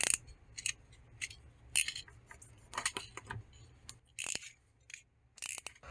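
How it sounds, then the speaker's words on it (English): Knife trimming plastic on a Hoover ONE PWR cordless vacuum, a series of short, sharp, close clicks and snips in irregular bursts, fairly quiet with no talking. "Use a knife to trim this off and hopefully not nick the belt."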